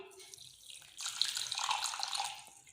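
Half a cup of hot water is poured into a bowl of ground sugar with cardamom, giving a soft, close trickle that swells into a steady splashing pour lasting a couple of seconds.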